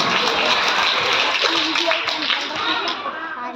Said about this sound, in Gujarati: જોરદાર આપણે તાળી સાથે સ્વાગત કરીએ।